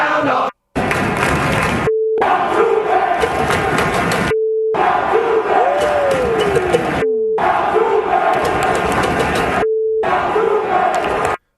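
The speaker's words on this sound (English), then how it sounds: "The Yankees crowd giving it to Altuve." A Yankees crowd jeers Jose Altuve, a loud, dense roar of chanting voices broken into repeated bursts by short silent gaps and a steady bleep tone, with a sliding whistle-like sound mid-way.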